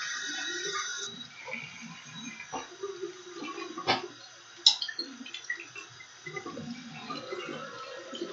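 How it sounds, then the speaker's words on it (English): Running tap water splashes over hands being washed at a sink, a soft, low-level wash of water with small drips and splashes and no speech. "I'm going to wash my hands."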